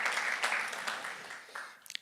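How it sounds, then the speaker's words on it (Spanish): Church congregation applauding during a sermon, a short burst of clapping that tapers off within two seconds, with a few isolated claps at the end. "¿No quieres dar un aplauso al Señor por esto?"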